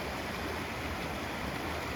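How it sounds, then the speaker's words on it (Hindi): The Kosi river flowing below a hillside temple makes a steady, broadband rushing roar of water, continuous and fairly distant, with no voices. "नीचे कोसी नदी बह रही है"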